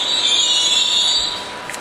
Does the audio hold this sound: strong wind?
no